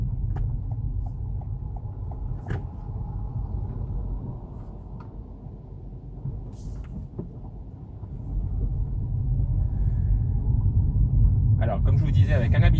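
Toyota Corolla GR Sport 2.0 hybrid with 180 hp on a dynamic test drive, a steady low rumble of engine and road noise inside the cabin, swelling louder in the second half with a few faint clicks.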